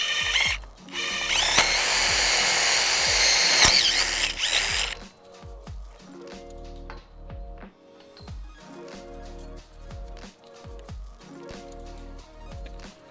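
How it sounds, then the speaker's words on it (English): A power drill whines loudly for about four seconds while boring through a metal greenhouse frame, then stops, followed by quieter repeated mechanical clicks and knocks. "I like to cheat and use a drill."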